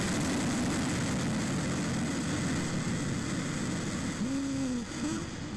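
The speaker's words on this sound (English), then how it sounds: "Rocket engines, I mean, it's hard to tell from the audio" A recorded rocket engine plays back as a continuous, even roar with a low rumble, steady throughout and heard alone without talk.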